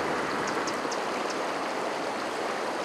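Swollen river in the Khust area running high after heavy rain, a dense continuous rushing and hissing wash that stays steady and fairly loud throughout with no voices.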